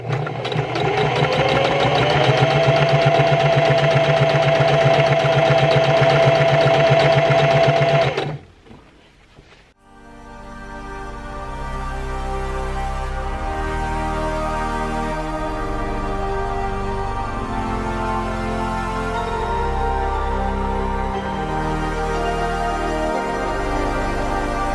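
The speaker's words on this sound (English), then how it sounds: "minutes of just sewing machine" Sewing machine stitching scrunchies in a home jewelry studio, running steadily and fairly loud for several seconds before stopping, after which background music takes over.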